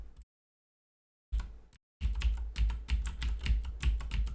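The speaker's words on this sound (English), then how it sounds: "It's just my keyboard is also like really loud." Loud computer keyboard typing: after a short silence come a few isolated keystrokes, then a rapid, continuous run of close, clacky key presses.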